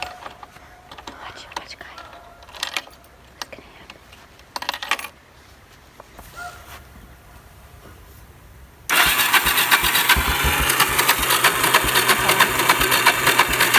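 An ATV engine cranks after a fuel repair, with quiet clicks and faint whispered voices before it suddenly catches and settles into a loud, steady, close idle.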